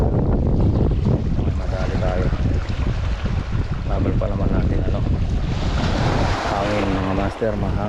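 Strong wind roars across the microphone at sea on a fishing outing, with waves washing and slapping steadily underneath, loud and continuous throughout, while a voice speaks briefly near the end.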